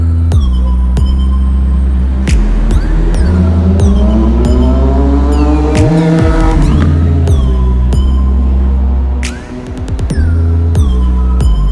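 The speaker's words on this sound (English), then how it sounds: "Let's get on the bike and let's get riding." An Indian Scout Rogue motorcycle runs loud and close throughout, its engine droning steadily with pitch swells as it revs and shifts while riding, with no talk over it.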